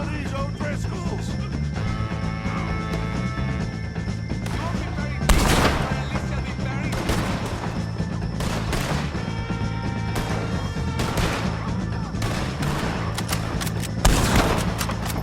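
Gunfire rings out in the Red Dead Redemption 2 Western game during a shootout with O'Driscolls: repeated loud shots and heavy bursts land every second or two over a tonal musical bed.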